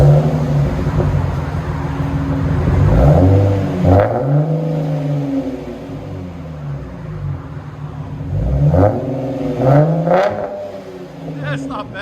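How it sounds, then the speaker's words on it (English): A 2010 Dodge Challenger 3.6L V6 with an LCGP exhaust and rear resonator delete revs up twice, a loud close rasp climbing and falling back to a deep idle between pulls. "Dodge Challenger LCGP and rear resonator delete."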